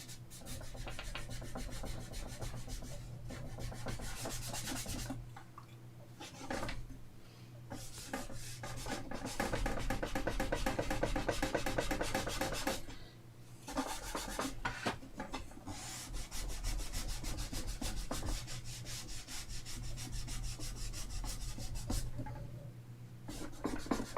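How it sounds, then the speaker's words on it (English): Steady scraping rub over a surface on a workbench, working off small black marks during a repair, continuous and close with a few short pauses, no talk over it. "Let's try rubbing a bit harder."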